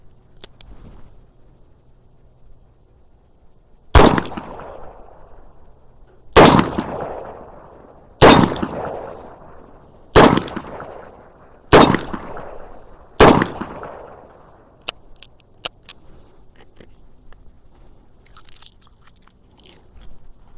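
Six sharp, loud shots from a Dan Wesson DW 715 revolver, spaced about two seconds apart, each a hard crack followed by a short ringing decay, with quiet pauses between and nothing after the last round.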